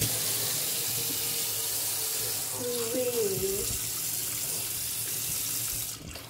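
Water runs steadily from a household tap into a sink, a continuous close rushing stream that fills the whole stretch before easing off at the end, with a brief faint voice partway through.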